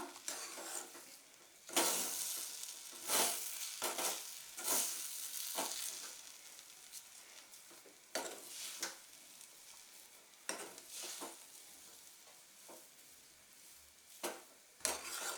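Broken rice upma (varinooka) is stirred in a pan, producing repeated scraping strokes of a spoon against the metal pan over a soft, steady sizzle, close and unhurried, with no voices.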